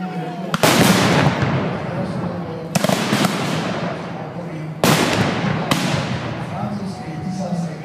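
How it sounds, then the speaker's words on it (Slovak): Three loud cannon blasts, each followed by a rolling rumble and crackle, boom at a Napoleonic battle reenactment in Bratislava, spaced about two seconds apart outdoors. "nemecký venovaný delostrelec dokázal vysvetliť 3 rány z dela"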